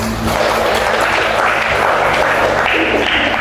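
Classroom applause during a nursing lecture, a dense, steady wash of many hands clapping at once, loud and continuous throughout, with a low hum beneath and no talk.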